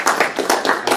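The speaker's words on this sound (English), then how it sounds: "I'd like to get a round of applause for panelists." Clapping for the panelists at a women veterans' talk at a college, heard as a brief burst of close, distinct hand claps in a quick regular rhythm rather than a broad crowd roar.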